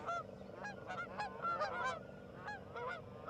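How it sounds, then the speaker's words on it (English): Geese honking repeatedly beside the Tennessee River during a kayak catfishing trip, a flock calling in overlapping bursts at moderate distance, steady through the whole stretch with no talking. "if it ain't Rover, it's the geese now"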